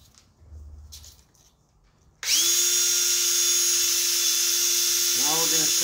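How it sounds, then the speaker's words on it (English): Sanding an engine tappet with 240 grit paper on a power tool, a steady loud high-pitched whine that starts abruptly and runs continuously, with faint speech before it begins. "Now we're going to sand off all the 80 grit lines because we want a smooth tappet."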